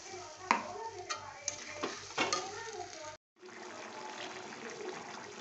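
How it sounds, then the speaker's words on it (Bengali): Potatoes cooking in a pan for a dried-fish curry sizzle and bubble as water goes in, a close, busy frying hiss with faint clinks, briefly cut off before a steadier simmering wash resumes. "এবার আমি জল দিয়ে দেবো আলুটা সেদ্ধর জন্য।"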